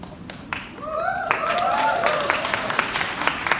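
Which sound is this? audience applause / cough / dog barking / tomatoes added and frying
audience applause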